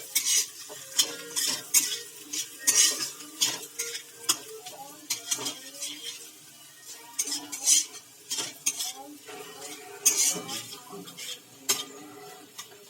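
Chowmein ingredients with boiled potatoes and soy sauce tossed in a pan: repeated close scrapes and clinks of a metal utensil against the pan over a soft sizzle, with no talking.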